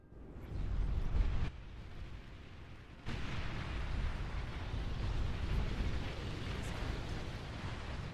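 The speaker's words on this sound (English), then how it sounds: "Enemy commander destroyed." Enemy commander blowing up in Beyond All Reason, a deep rumbling explosion that swells, cuts briefly, then returns as a sustained roaring blast with crackling debris, loud and alone.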